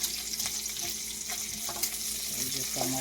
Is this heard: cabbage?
yes